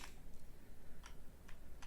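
Typing on a computer keyboard, quiet and close, with a handful of distinct key clicks spaced irregularly over a faint background hiss.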